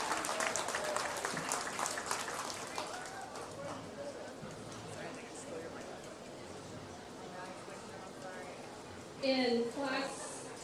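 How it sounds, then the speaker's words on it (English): Applause rolls through the audience around a livestock show ring at a county festival market show, sustained clapping that fades gradually, with a couple of brief louder bursts near the end. "Let's give everyone a great big round of applause."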